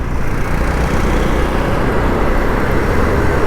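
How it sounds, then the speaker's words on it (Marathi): Heavy city traffic in Hyderabad, heard during a solo scooter ride: a loud, continuous roar of engines and road noise with no breaks and no speech. "एवढा बेकार ट्रॅफिक आहे ना"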